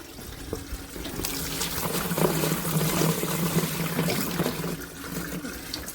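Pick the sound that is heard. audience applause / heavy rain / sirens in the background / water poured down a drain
water poured down a drain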